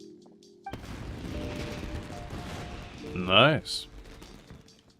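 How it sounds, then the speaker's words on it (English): Fireworks go off inside a building in Genshin Impact: a sustained crackling burst builds to a sharp, bright whistling pop and then dies away, with a brief spoken remark near the start. "I'm pretty sure it's not very safe to, you know, fire fireworks inside a building"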